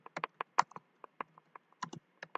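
Fingers tap out a pip install command on a computer keyboard, a quick run of crisp, close keystrokes with short uneven pauses between them, quiet and alone.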